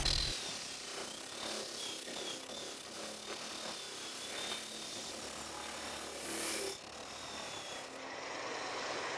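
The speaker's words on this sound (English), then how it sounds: "Let's go with the stone, which is an 880 grit sandpaper, and we keep roughing it out." A machine fitted with an 880 grit sanding stone roughs out the wood of an artisan smoking pipe, giving a steady, continuous abrasive rasp at close range, with no talking.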